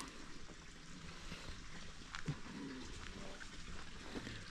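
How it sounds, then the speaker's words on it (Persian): River water flows steadily through an autumn forest setting in Javaherdeh near Ramsar, a continuous broadband rush with a few brief clicks and knocks on top, moderately loud and without speech. "صدای آبم میاد"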